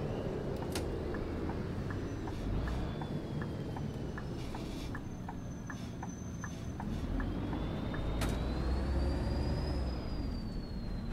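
A MAN Lion's City A21 three-door city bus engine in the Omsi 2 simulator hums steadily at low volume, with a regular ticking indicator, a turbo whine rising in pitch and a brief hiss.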